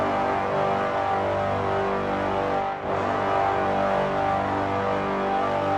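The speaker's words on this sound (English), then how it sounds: "Using Nexus, the Hollywood Brass preset. Here are the notes." Hollywood Brass preset from the Nexus synth plays a sustained, layered brass melody with a brief dip in the middle, steady and full, with no talking.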